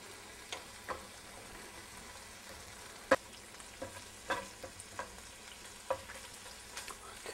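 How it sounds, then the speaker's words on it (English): Bacon fries in a pan for shrimp and grits, a steady close sizzle with scattered crackles and pops, along with occasional stirring scrapes and no talking. "the fat is beginning to render out of the bacon"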